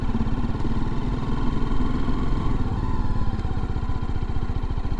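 A motorcycle engine runs steadily close by with a dense, pulsing low rumble and slight mechanical clatter, ridden on roads in Devon and picking up from walking pace without any voices.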